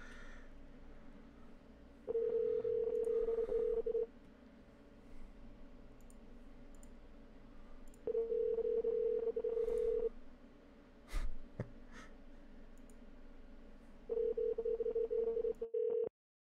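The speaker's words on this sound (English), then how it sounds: "Cause it's ringing." Telephone ringing tone on a call to a scammer: steady electronic tone bursts of about two seconds, repeating at long even intervals over a faint line hiss, with a click near the middle.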